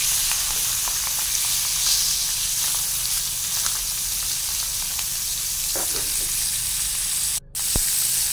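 Taki fish sizzles steadily in hot oil as it fries ahead of cooking into a curry, a constant close hiss with faint crackles and a short break near the end.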